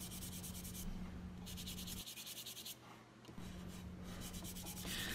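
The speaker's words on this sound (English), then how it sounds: "All we have left is some final sanding and then a finish." Close, quiet rubbing strokes of final hand sanding on a wooden piece, the back-and-forth rasp pausing briefly before it resumes.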